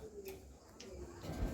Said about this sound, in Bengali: লটন কবুতর